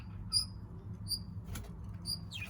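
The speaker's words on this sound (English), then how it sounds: "You can hear squawking" Budgies in an aviary breeding setup chirp and squawk in short, bright bursts while the male feeds the female, with repeated high calls over a steady low background hum.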